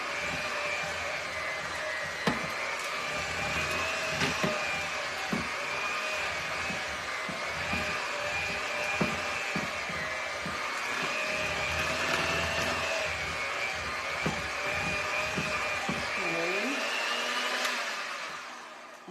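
An electric hand mixer whirs through green mint frosting for brownies, a loud continuous motor whine with small knocks and scrapes of the beaters against the bowl, winding down near the end.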